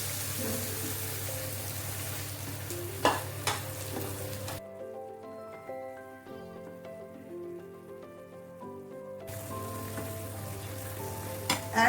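Shrimp and broccoli sizzling in a pan with sauce while being stirred, a steady close frying hiss broken by a few scraping stirs and a brief quieter moment mid-way.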